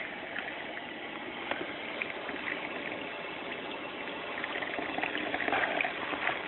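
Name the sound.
water splashing during baby's first bath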